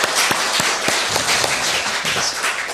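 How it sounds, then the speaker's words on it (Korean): A church congregation applauds a medical volunteer team, scattered claps opening with sharp separate smacks, then a loose, moderately loud round of clapping from a roomful of people for about three seconds. "영광의 박수 한번 올려드리겠습니다."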